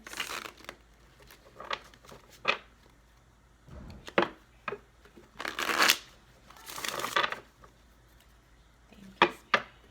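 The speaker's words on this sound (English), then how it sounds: "This will be our last shuffle" Tarot cards being shuffled in several bursts of riffling and flicking, with short pauses between, close and fairly quiet with no talking.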